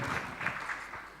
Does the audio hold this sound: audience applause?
yes